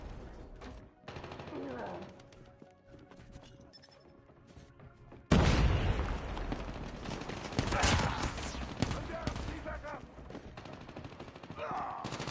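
Rapid gunfire and explosive shots erupt in a Call of Duty Mobile match, a quieter stretch of game sounds giving way to a loud, dense burst of firing with thuds, while a player talks over it.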